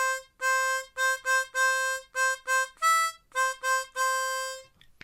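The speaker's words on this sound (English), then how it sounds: "Let's start right at the top, line A, and it would sound something like this." Harmonica in C plays the opening line of a song, a run of short repeated reedy notes in quick bursts, ending with a brief pause and a faint click, loud and close with no talking.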